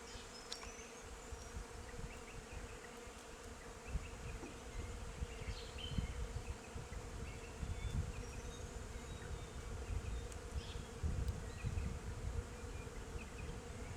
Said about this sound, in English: And there are so many bees that you can hear them